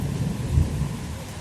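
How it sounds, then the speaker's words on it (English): An afternoon thunderstorm in Troy, Illinois brings a deep low rumble of thunder over steady heavy rain, loud and close throughout this brief moment. "Intense lightning, heavy rain, flash flooding."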